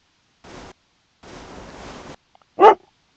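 A tamed dog in the video game Pumping Simulator 2 gives one short, loud, close bark after two bursts of soft hissing game noise, with quiet gaps between the sounds.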